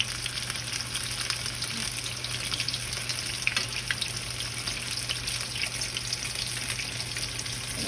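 Beer-battered fish fillets sizzling in hot oil, a dense continuous crackle and spatter with tiny pops, steady and close with no voices.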